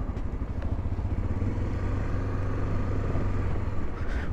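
A motorcycle engine, an XRE 300, running at night on a road in Blumenau, a steady loud rumbling drone close to the rider throughout.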